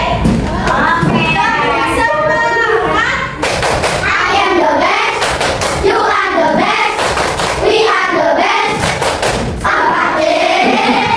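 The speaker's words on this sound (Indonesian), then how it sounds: "Ayo sebelumnya kita tepuk semangat dulu" Schoolchildren in a classroom clap hands together in a lively rhythmic spirit clap, sharp patterned bursts of claps and thumps mixed with their chanting voices, loud and close.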